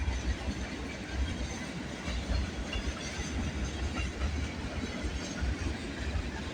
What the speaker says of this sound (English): Well, this might be an extra run of some sort of train.